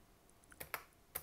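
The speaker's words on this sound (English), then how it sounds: "But let's just hit the delete key and the delete key." The delete key is pressed on a computer keyboard during 3ds Max work, making a few faint, sharp key clicks spaced unevenly over quiet background hiss.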